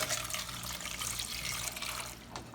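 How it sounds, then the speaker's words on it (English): Water runs steadily into a small pot holding tomatoes, guajillo chiles and chile japonés, a close, continuous splashing pour with no voices. "you're going to add the water"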